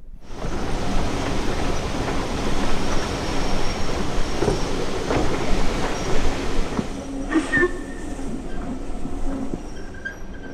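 A heritage train on the Keighley and Worth Valley Railway rumbles steadily along the line, with continuous wheel and carriage noise, rhythmic rail clatter and occasional faint squeals, heard from on board without talk.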